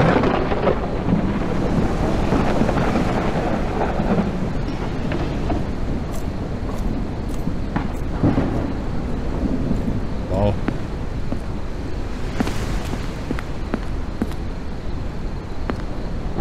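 Rain and rolling thunder fill a horror video game scene, a constant loud wash with scattered sharp crackles and bursts, while a person talks intermittently over the storm.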